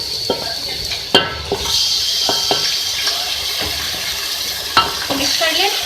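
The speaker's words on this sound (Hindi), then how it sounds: "अब मैं इसमें ऐड करूँगी गोश्त।" Beef stirred and frying with softened onions in a pan for turai gosht, a soft steady sizzle with scraping spoon strokes and occasional sharper clinks, close and moderately loud.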